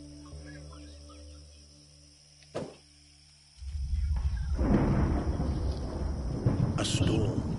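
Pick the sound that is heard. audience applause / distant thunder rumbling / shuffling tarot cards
distant thunder rumbling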